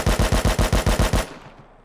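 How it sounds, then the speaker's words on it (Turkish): A burst of about eight rapid, heavy AK rifle shots in the video game Rust, each a loud booming crack in an even automatic rhythm, followed by a fading tail after the firing stops. "Hani cidden keleşin sesi kalmalıydı bence."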